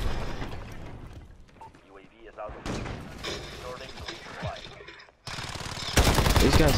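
Gunfire in Galil gameplay from a shooter video game, repeated loud shots and bursts with impacts, continuing under a player's talk.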